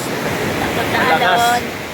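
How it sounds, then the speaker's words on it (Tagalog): Strong sea waves churn in a continuous loud wash of surf, close by and filling the whole moment with broadband roar. "Ang lakas kasi ng alon"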